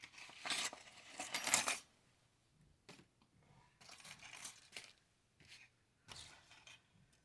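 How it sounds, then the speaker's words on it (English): Metal cutting dies tossed onto a desk, several bright jangling clinks in short bursts: a loud cluster at first, then softer scattered clatters with quiet gaps between. "I'm throwing my dies around over here"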